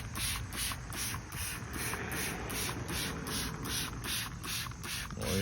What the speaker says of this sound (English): Get your spray bottle and just spray.